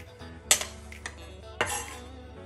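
Clinks and scrapes of a utensil against a metal frying pan as chopped pork cheek (guanciale) is tipped in, a couple of sharp knocks over a low background hum.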